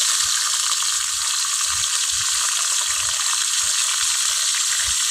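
Chopped onion frying in hot oil in a wok over a stove, a steady bright sizzle running throughout, with soft periodic scraping knocks from stirring underneath.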